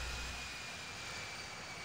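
The player's own airplane engine in the flight simulator game Infinite Flight: a steady, faint, unbroken drone with a continuous high whine over it, no voices.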